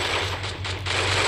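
Rapid gunfire in Counter-Strike, a loud dense burst of fast shots lasting just over a second with no voice over it.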